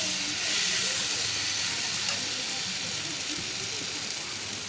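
Water poured into a hot pan of masala and potatoes for an egg curry, giving a strong continuous steamy sizzle and hiss, close and loud, fading slightly toward the end.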